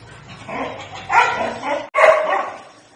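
A dog barks close by in a few rough, whiny bursts, with a short pause between the last two.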